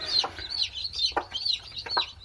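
A broody first-laying hen clucking in short, repeated bursts close by. The calls are fairly loud and rhythmic, over a quiet background with no talk.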